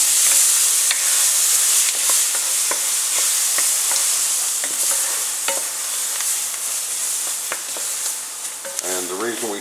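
Chopped vegetables sizzle in a hot, chocolate-colored roux for a Cajun meatball stew, with a steady frying hiss and the repeated scrape of stirring close by.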